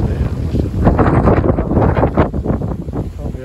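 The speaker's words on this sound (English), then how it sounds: "It's very windy." Loud, blustery wind buffets the microphone throughout, a constant low roar with gusty swells and a faint voice underneath.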